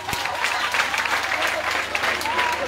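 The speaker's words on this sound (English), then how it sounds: "I beg clap for yourself" An audience claps at a First Lady's free sanitary pad outreach event in Segbwema. The clapping is steady and moderately loud throughout, with voices audible alongside it.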